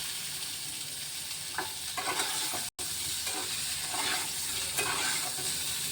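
Fish frying in a pan for a Bengali prawn malai curry, a steady close sizzle with scraping stir strokes throughout and one brief dropout near the middle.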